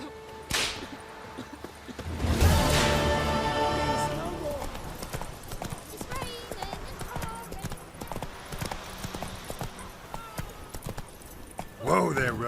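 Roach the horse's hooves clip-clop steadily in The Witcher 3, close and fairly loud, with a whip crack and a burst of music and effects around the start and talk-free game ambience throughout.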